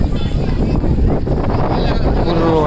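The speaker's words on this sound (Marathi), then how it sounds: "वारा पण जोरदार आहे." Strong wind buffeting the microphone at the Nariman Point seafront in Mumbai, a loud continuous roar with gusty rumble and faint voices in the background.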